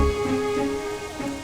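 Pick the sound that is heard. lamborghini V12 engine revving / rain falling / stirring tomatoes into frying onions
rain falling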